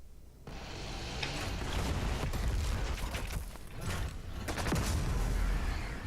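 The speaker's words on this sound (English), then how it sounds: "Let me just lay the frag right at my feet so it kind of like bounces and rolls over to him." Frag grenade in Doom Eternal bouncing and detonating during a Doom Hunter boss fight, a dense run of loud gunfire-like bangs, clanks and mechanical clatter over rumbling combat noise with no talk.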